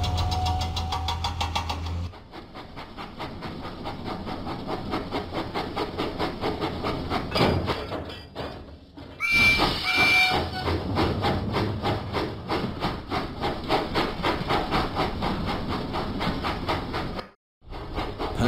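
A cartoon steam engine chugs steadily through the countryside in a Thomas & Friends video game, with a rhythmic rolling clatter throughout and a brief whistle-like tone near the middle, over game music.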